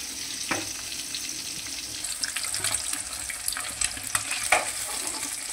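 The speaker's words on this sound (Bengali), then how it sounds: "মাছগুলো আমার ভাজা হয়ে গেছে।" Small bheda fish frying in oil in a pan, a steady close sizzle with bright crackling spatters and occasional sharper pops running throughout.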